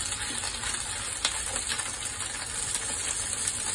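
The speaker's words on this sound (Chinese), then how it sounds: "咁我哋咧就落啲虾落去煎啦" Shrimp fry in two spoons of hot oil in a wok over medium heat, producing a constant close sizzle with occasional crackles and light clinks.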